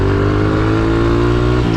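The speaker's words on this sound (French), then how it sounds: "Là, la grosse moto." A big motorcycle rides by on a Paris street, its engine a loud, steady close-up drone that holds throughout, with a brief dip near the end.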